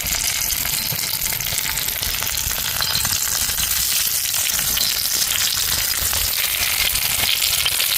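Fish frying in hot oil in a Mangalore-style kitchen gives a loud, dense, steady sizzle and crackle that fills the whole stretch, close up, with no voices.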